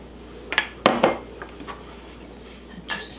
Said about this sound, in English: And just stir that all together like this.